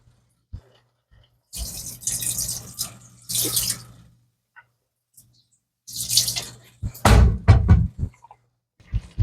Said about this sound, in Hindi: इसमें हम थोड़ा पानी मिलाते हैं।